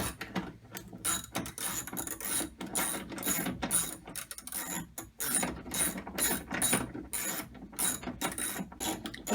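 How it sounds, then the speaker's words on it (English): A ratchet works bolts loose on a Nissan N13 Sunny door, producing rapid, close, crisp clicking in continuous bursts with brief gaps, fairly loud and alone. "Nope, I'll grab a ratchet."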